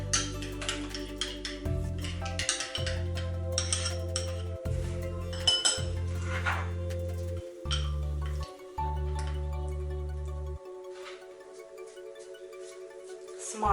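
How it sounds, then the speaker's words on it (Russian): Spoon clinking against a bowl while stirring apricot jam with fresh lemon juice, light repeated metallic chinks over a steady low tonal hum that cuts in and out. "В джем добавляю сок половины крупного лимона. Все хорошо перемешиваем."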